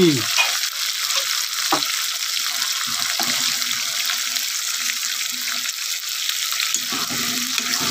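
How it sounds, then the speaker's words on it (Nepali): Katar sizzling and frying in a pan, a steady loud hiss that fills the clip, with a few brief stirring and clinking noises near the start. "फ्राई गर्ने"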